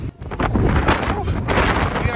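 Gusty wind buffets the microphone on a hiking trail near the top of Ensign Peak in Salt Lake City, a loud, constant rushing roar filling the whole moment.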